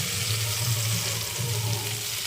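Chopped mushrooms tossed into a hot pan with oil and homemade ground spice give off a steady, close sizzling hiss that holds evenly throughout.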